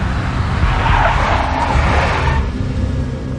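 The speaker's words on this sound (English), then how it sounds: "A big black Mercedes." A big black Mercedes driving and skidding in the Max Payne 2 video game, a loud rushing engine roar with a broad tire skid swelling in the middle then easing off, no voices.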